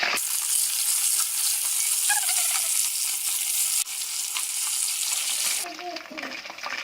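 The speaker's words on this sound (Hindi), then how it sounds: "अब इसकी साइड पलटी करेंगे और इसको ब्राउन होने तक फ्राई करेंगे" Chicken pieces for chilli chicken fry in hot oil with a loud, dense, close sizzle that runs steadily, briefly dips and then softens toward the end as pieces are turned.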